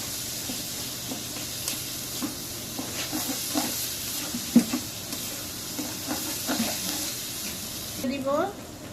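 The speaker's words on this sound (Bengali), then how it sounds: "হালকা একটু ভেজে নিব।" Dried chepa shutki fish lightly frying in a pan, giving a soft steady sizzle and hiss with occasional scraping stirs, while a person talks over it.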